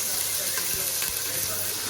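Onions frying in a pan for a chicken dish, a continuous soft sizzle with occasional faint stirring, heard alone at modest volume.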